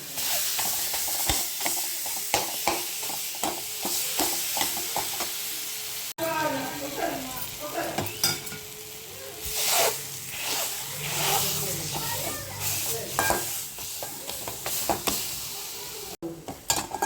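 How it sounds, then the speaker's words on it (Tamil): Sliced banana fries in leftover ghee for banana adai, a constant close sizzle under repeated scraping stirs of a spatula in the pan, continuous throughout. "வாழைப்பழத்தை போட்டு நல்லா வாழைப்பழத்தை வதக்குவோம்."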